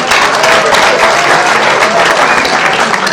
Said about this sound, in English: Can I have a big round of applause for her too?